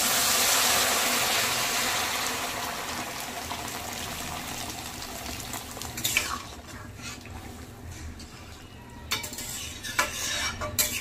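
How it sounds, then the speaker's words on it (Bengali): Hot water poured into sautéed dal and spices for Bengali bhoger khichuri, a steady hiss and sizzle that fades as the liquid settles, followed by a few metallic clinks and stirring scrapes in the pot. "দিয়ে দেব গরম জল"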